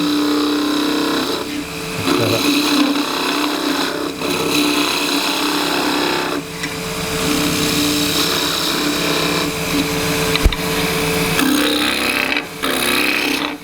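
Scrap wood spinning on a lathe while a turning tool shapes a spatula near a bead, giving a steady, continuous scraping hum with short dips where the cut eases.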